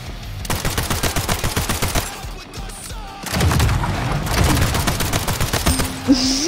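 Pistol gunfire in Splitgate, a rapid train of loud sharp shots in bursts, with a brief pause between volleys and a heavier booming stretch after.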